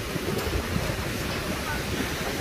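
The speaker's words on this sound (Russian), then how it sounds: "Море, конечно, опасное, высокое." High, rough sea surf breaks on the shore in a continuous loud roar, mixed with wind buffeting the microphone and no clear talk.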